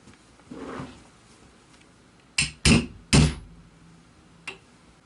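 Large rear pin being seated in a Ruger Charger 22LR pistol, heard as three sharp close knocks in quick succession followed by a lighter tap.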